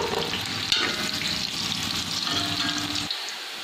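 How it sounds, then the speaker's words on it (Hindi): Onions frying in a pan until brown for aloo pulao, a close, continuous sizzle with faint stirring underneath that cuts off abruptly near the end. "प्याज जो हैं वो ब्राउन हो रहे हैं।"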